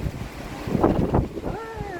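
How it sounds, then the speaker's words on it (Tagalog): Strong wind from Typhoon Ciaran in France roars and buffets the microphone in heavy gusts, with a voice briefly speaking near the end. "Strong winds."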